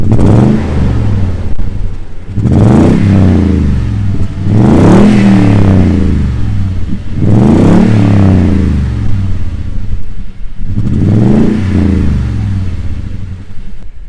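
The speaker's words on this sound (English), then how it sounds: "give you a good reminder of what this exhaust sounds like from the outside" A 2021 Toyota Tundra TRD Pro's aftermarket exhaust heard from outside the truck, revving hard in four separate throttle blips, each rising and falling with deep growling bursts between short quieter idle gaps.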